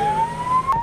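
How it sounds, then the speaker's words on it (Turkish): A fire truck siren wails steadily through a brief stretch, a loud sustained tone with a slight rising pitch and traffic noise beneath. "Kedi itfaiye aracıyla veterinere götürüldü. Yolda klima ile ısıtıldı. Yolun açılması için sirenler çalıştı."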